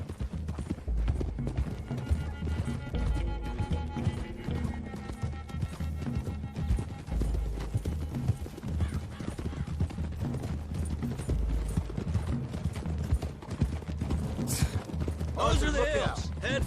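Several horses ridden along a road in Red Dead Redemption 2, their hooves clip-clopping in a steady, continuous rhythm, with spoken voices over the hoofbeats.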